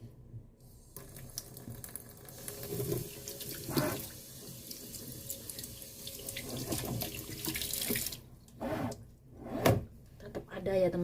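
White kitchen utensils being rinsed of soap under a running tap, a steady hissing splash of water with clattering and scraping of utensils in the sink, while a person talks over it.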